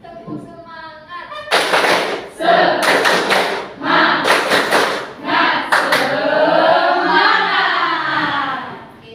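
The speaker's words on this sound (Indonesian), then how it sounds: "Tepuk semangat." A classroom group claps a rhythmic spirit clap (tepuk semangat) in patterned bursts of sharp claps. Voices chant along in unison between and over the clapping.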